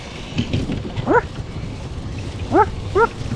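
A dog gives three short yipping barks, one alone then a quick pair, moderately close against a low background murmur, outdoors at night in Punggol Park.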